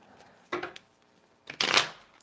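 Tarot cards shuffled in two quick riffles, a short one followed by a longer, louder flutter, in an otherwise quiet room.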